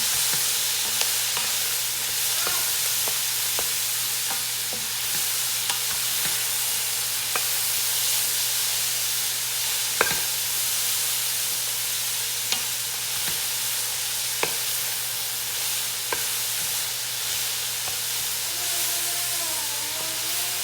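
Leeks, white and green parts, stirred into a pot for sausage and kale cream soup, with a steady sizzling hiss and soft scraping stir strokes at irregular intervals, close by with no talk.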